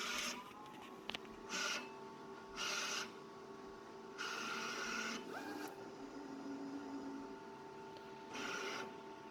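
A vinyl cutting machine starts once its lever is pressed, cutting heat transfer vinyl with repeated short bursts of whirring motor and carriage noise, separated by quieter pauses and steady background hum.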